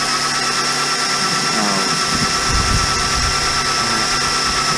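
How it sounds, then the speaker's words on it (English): A power drill grinds steadily at a seized stud on a bus, a continuous high-pitched whine with a rough low rumble rising midway, close and loud without pause. "So we're just trying to actually drill it out completely."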